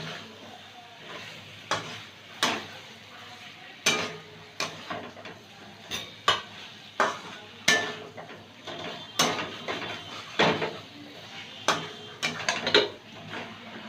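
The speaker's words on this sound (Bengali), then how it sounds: "এবার আরেকটু কষিয়ে নেব আলুর সাথে এটা মশলাটা।" Potatoes and spice paste sautéed in a pan for an egg curry: repeated sharp clacks and scrapes of a spatula against the pan, roughly one every second, over a faint sizzle.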